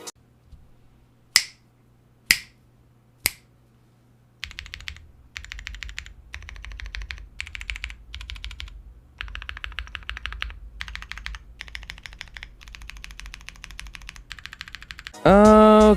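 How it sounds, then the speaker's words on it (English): Corsair mechanical keyboard switches typed on in a quiet room: a few isolated sharp clicks, then a long run of rapid, close keystroke clatter ending with a brief burst of another sound. "Here is a sound test of the Corsa switches."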